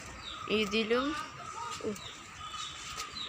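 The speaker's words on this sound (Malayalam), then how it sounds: "പിഞ്ചസ് എന്ന് പറഞ്ഞൊരു കിളിയുണ്ട്" Small birds chirp and tweet in quick, high bursts while a person talks nearby, with a steady background of more bird calls.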